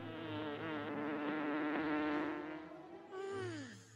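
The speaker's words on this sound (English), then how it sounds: "Fly, little fly, fly." A small fly buzzing in flight, a close, wavering drone that rises and falls in pitch, then sweeps downward as it moves off near the end, with no voices.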